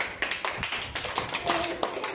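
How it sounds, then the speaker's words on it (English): Children clap in a third-grade classroom during a place value maths activity, a handful of uneven, spaced claps with light voices underneath. "Clap."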